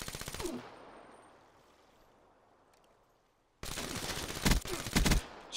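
Black Ops 3 video game gunfire, a rapid burst of shots at the start, quiet gap, then loud rapid automatic fire with heavier blasts near the end, no speech.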